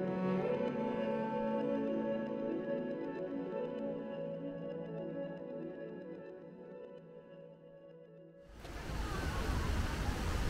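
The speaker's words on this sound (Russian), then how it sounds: "Ух ты, какой водопад." A small waterfall on a river during a Black Forest hike: after a stretch of steady tonal hum, a loud, broad rush of falling water bursts in abruptly and continues to the end.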